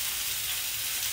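Salmon frying in a pan in its own fat, a steady close hiss and crackle of sizzling throughout, heard alone.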